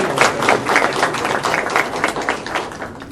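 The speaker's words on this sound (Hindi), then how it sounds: "एक बार जोरदार तालियां अगर आप लोग दे देंगे तो बहुत अच्छा रहेगा" Applause from the audience at a press conference for a Miss India beauty pageant event, a steady wash of many hands clapping at moderate loudness for about three seconds.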